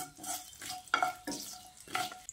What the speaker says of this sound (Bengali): এবার ফোড়নটাকে কয়েক সেকেন্ড ভেজে নিচ্ছি।